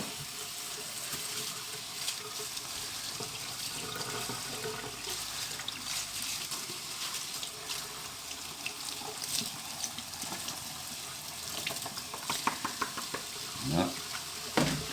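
Germinated seeds being rinsed under running water, a steady close wash of flowing water with occasional knocks and splashes from handling, louder toward the end.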